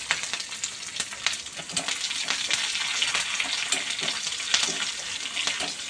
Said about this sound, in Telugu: కరివేపాకు అన్నీ వేసేసి ఒక్కసారి కలుపుకోవడం